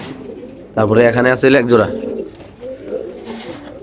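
Pigeons coo at a Bangladeshi pigeon market, with a burst of close, loud cooing and throaty calls that soon fades to softer background cooing while someone talks.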